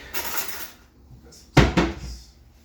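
Spoons clink against dishes while a beef roast with polenta is being served: a light scrape, then a quiet moment, then a sharper, louder double clink of metal on crockery close by.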